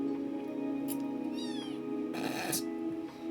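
A cat meows close by, a drawn-out call followed by a louder, wavering meow over a low steady hum.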